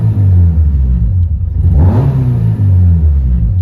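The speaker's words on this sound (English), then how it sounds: "here's a little rev, so you can see how fast it climbs up" A B20V car engine fitted with a lightweight 12 lb ACT flywheel, idling loudly up close, then blipped once into a quick rising rev that climbs and falls back to a steady idle.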